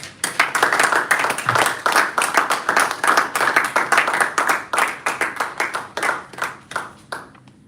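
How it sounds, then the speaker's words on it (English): Applause from a small audience at a Toastmasters club meeting in a hotel, a fairly close burst of distinct, rhythmic hand claps that starts brisk and thins into slower, scattered claps before fading. "Can we please give a round of applause to everyone who has spoken?"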